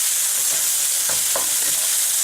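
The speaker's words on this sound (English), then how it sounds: "I'm going to finish stir frying my rice here" Vegetable fried rice with soy sauce sizzles in a hot pan while being stir fried, a steady close frying hiss broken by a couple of sharp scraping stirs.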